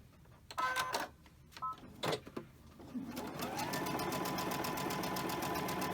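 After a few scattered taps and clicks, a sewing machine starts and runs steadily through quilt half square triangle pieces, a close, continuous whirring stitch.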